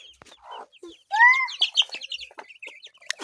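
Chickens and small chicks cluck and chirp at feeding time, with a few rising calls followed by a quick scatter of close, overlapping peeps.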